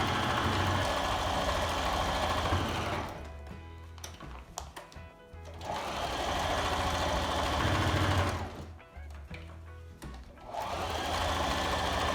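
A sewing machine stitching a homemade face mask runs in steady bursts of rapid stitching, stopping briefly twice between runs, loud and close with no talking.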